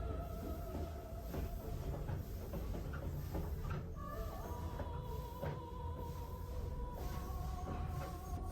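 A train pulls into Ieyama Station with a low rolling rumble and rail clatter, while drawn-out metallic brake squeals rise and hold over the steady noise; no one speaks.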